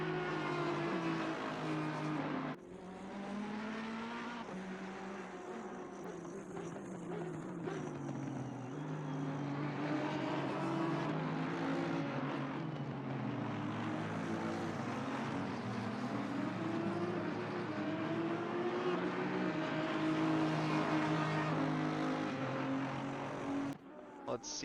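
Race cars lapping Silverstone in a racing video game during a six-hour endurance event, engines droning and rising and falling through gear changes, with a person talking over the cars throughout.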